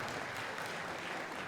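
An audience claps steadily at the 2017 PNW District Event opening ceremonies in Auburn, a dense, continuous wash of many hands that holds at an even level throughout.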